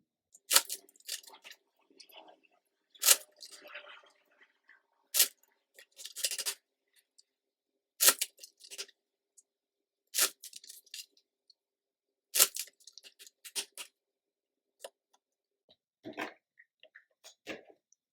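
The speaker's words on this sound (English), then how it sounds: "Let's shuffle." Playing cards are shuffled in repeated quick riffling bursts every couple of seconds, with soft rustles and taps between, close and alone.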